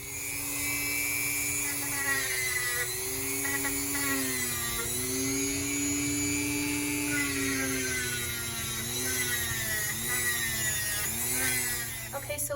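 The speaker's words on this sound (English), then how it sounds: "we just finished filing the front feet with the rotary drill" A rotary nail grinder files a dog's toenails, a steady high whirring drone with pitch wavering as it presses against each nail, continuous and close throughout.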